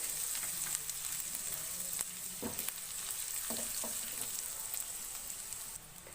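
Finely chopped ginger and garlic fry steadily in hot oil, a continuous close hiss broken by a few soft knocks of a spoon stirring the pan.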